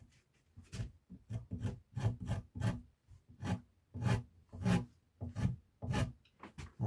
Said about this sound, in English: Got a Shinto saw rasp here.